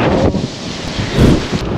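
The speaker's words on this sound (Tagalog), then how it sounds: "Sobrang lakas ng hangin dito" Strong wind on a beach roars and buffets the microphone in loud, rough gusts, surging again near the end, with no voices.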